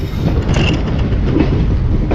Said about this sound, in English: So we are leaving Bantwal railway station.